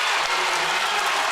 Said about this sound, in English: And now the crowd is really into it.